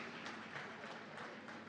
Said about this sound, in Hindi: एक बार पुनः जोरदार तालियां बजा दीजिए।